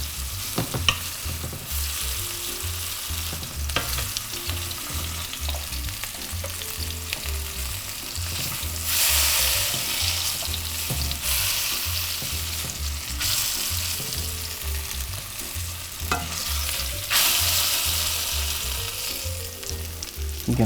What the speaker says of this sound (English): Then we'll sear the sides just a little bit, and then we'll put it in our pan over here.